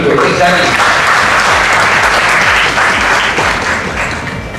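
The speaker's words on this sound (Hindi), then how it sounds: "मेरे ख्याल से इस सवाल की तालियां बजानी चाहिए" An audience at a career counselling event bursts into loud, sustained applause, dense clapping filling the room for a few seconds before slowly tapering off.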